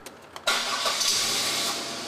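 A car engine cranks briefly during a coolant flush service, then catches and settles into a steady, loud idle close by.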